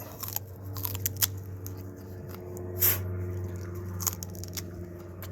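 Someone chews a wild curly dock stem, making crisp, crunchy bites and wet squishes over a low background hum, with a louder crunch near the middle.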